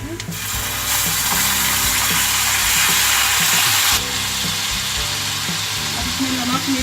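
Garlic and ginger sizzling in a pan with light-browned onions, mustard seeds and cumin, a steady loud frying hiss with faint stirring clatter throughout.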